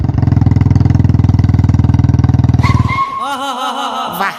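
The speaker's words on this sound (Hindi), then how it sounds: "वाह, मजा आ गया बाइक चलाने में।" A cartoon Bullet motorcycle's engine thumps loudly and rapidly up close for about three seconds, then cuts off. Bright, warbling cartoon sound effects follow.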